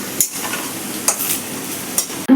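Potatoes frying in a pan, with a continuous loud sizzle broken by a few sharp scraping strokes of the stirring spoon.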